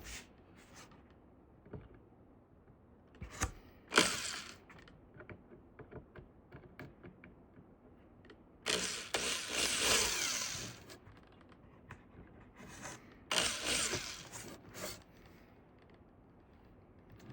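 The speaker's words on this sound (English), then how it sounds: "That way I can straighten out those ripples with hammer and dolly." Bursts of metallic hammering as a hammer and dolly straighten ripples in sheet metal, sharp clustered blows separated by quiet pauses, with a longer rapid flurry midway.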